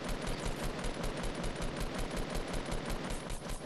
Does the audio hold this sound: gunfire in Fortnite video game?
yes